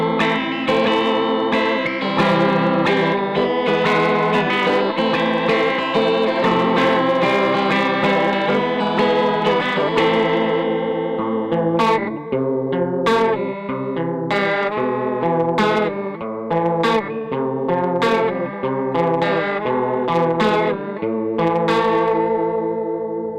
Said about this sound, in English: So we will move on to the Behringer pedal now. Everything is at 12 o'clock and let's have a go.